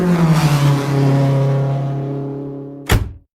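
A 2009 Toyota iQ with a 1.0 petrol engine hums at idle or revs briefly, a steady engine drone that fades gradually before a sharp thunk, like a door shutting, cuts it off.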